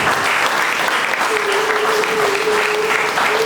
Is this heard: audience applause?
yes